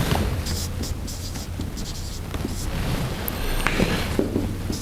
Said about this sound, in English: let me write the claim